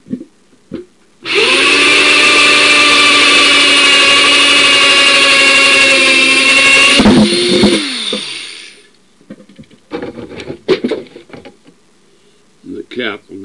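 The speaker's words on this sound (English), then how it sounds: "And this is my saw. Cuts a 2-inch circle." A power saw cuts a 2-inch circle in a plastic bucket cap, giving a loud, steady, close whine for about six seconds before spinning down, followed by scattered clatter and handling noises.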